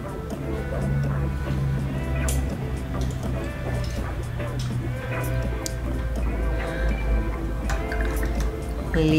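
A watercolor paintbrush is rinsed in water, giving soft, close dripping and small liquid splashes that patter irregularly throughout at a quiet level.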